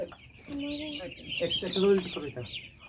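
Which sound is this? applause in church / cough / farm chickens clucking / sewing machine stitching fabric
farm chickens clucking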